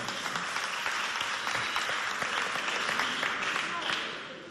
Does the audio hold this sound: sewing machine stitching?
no